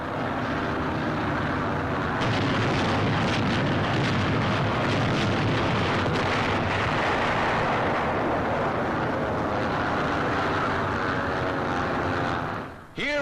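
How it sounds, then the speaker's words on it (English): Wartime bombing during the D-Day invasion rumbles as a dense, sustained roar of blasts and aircraft engines, loud and unbroken, ending in a brief sweeping tone. "During the landings, the merciless pounding of the entire invasion area continues."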